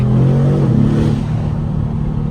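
An Aston Martin DBX S SUV engine hums while driving, a loud low drone heard from inside the cabin that rises briefly and then settles into a steady rumble.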